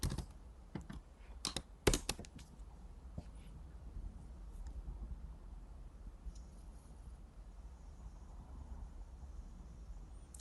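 Typing on a computer keyboard at a desk while drafting a travel blog post, a burst of close, sharp key clicks early on, then fading into quiet room hiss.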